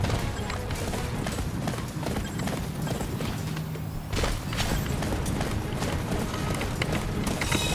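Hooves clip-clop in a fast, continuous galloping rhythm from a horse in the Attack on Titan video game, loud and close with game effects mixed in.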